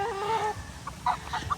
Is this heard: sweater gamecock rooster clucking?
yes